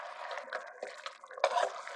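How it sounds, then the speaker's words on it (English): Water is poured into a pot of simmering BBQ spare rib tips to build a gravy, giving a steady close trickle and splash with a brief louder gurgle near the end. "A delicious gravy by adding just a cup of water."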